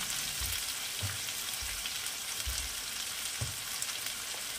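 Aar fish with fenugreek sizzles steadily in a small kadai, and soft, regular scraping pulses mark gentle stirring under the quiet, continuous frying hiss.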